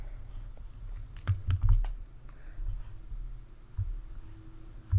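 A few close, crisp computer mouse clicks are heard while working in statistics software, a quick cluster of clicks followed by a couple of softer isolated ones over a low steady hum.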